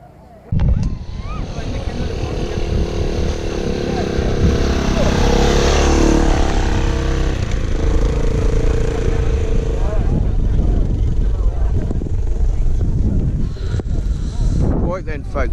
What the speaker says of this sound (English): we've seen most of the motorbikes come through